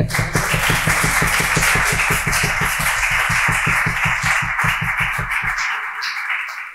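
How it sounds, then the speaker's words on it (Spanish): An audience at a comic convention panel claps in a loud, steady rhythmic beat that keeps a regular pulse for several seconds and then stops abruptly near the end. "un aplauso para ellos"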